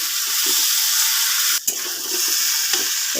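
Water splashes into a pan holding ground poppy seed, chili and ginger paste for a paneer and poppy seed curry, a steady rushing pour lasting about three seconds with a brief dip midway.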